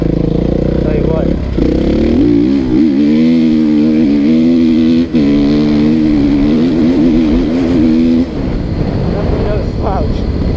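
A 2016 KTM 350 EXC-F dirt bike engine drones loudly nearby, its pitch wavering and rising through a sustained run before dropping off, with a voice talking over it.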